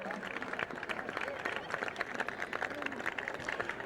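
Crowd applause rises in the stands at a 2003 college football game between UDA and Juniata, a steady broadband patter of many hands heard at a distance beneath the stadium murmur.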